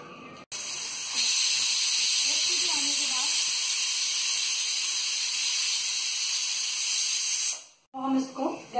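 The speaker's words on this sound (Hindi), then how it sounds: "एक विसल आने देंगे।" A pressure cooker on a gas stove, cooking onions and tomatoes, lets out a loud, sustained steam whistle, a steady hissing shriek lasting several seconds before it cuts off, followed by brief faint sounds.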